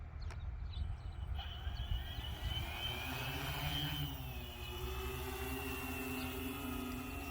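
Remote-controlled aircraft motors arming and spinning up for takeoff, a steady loud whir with rising tonal lines and rumble held throughout, with no talk.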